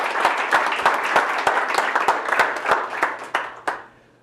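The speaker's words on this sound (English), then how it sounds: "Please give a warm round of applause for Miguel." Applause for a speaker at a morning community event, made of distinct, fairly sparse hand claps in an uneven rhythm that thin out and stop after about four seconds.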